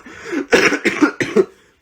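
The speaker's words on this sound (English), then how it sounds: "I'm trying so hard to hold this cough back right now to finish my thought." A man coughs several times in quick succession, close to the microphone: three or four harsh, throaty bursts following a short breathy lead-in, with no speech over them.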